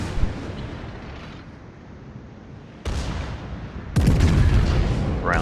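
Naval guns fire salvos in a warship video game, with deep booming blasts landing in stages and a heavy rumble building to a loud final burst, nearby and with no talk over it.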